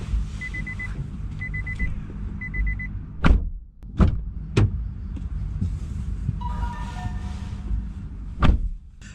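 A charging cable is plugged into a 2018 Nissan Leaf at an Electric Highway rapid charger: a few sharp clunks and clicks ring out, with short repeated electronic beeps before them, over a steady low background hum.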